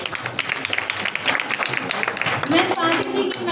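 Audience clapping for Dr. Sadhana Arya at a literary session on disability, a short scattered patter of applause mixed with a voice speaking over it.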